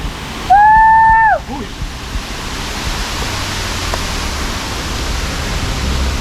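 A waterfall inside a dark cave in Ubud, Bali, roars with a loud, constant rush of falling water, preceded by a brief high rising-and-falling vocal exclamation at the start.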